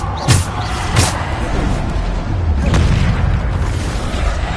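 The Descendo spell in Hogwarts Legacy, heard as several heavy, close impact booms and slams set over a rumbling game backdrop, with a couple of sharp hits early on and another thud later.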